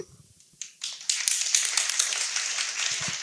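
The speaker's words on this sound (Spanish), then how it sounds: "van a aplaudir por los verdaderos" An audience breaks into applause to vote for an answer in a science game show, starting with a few scattered claps and swelling into a moderate, continuous clapping.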